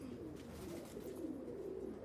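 Pigeons, Rampur elephant pigeons, coo in a soft, continuous low warble, faint and close, with no talking.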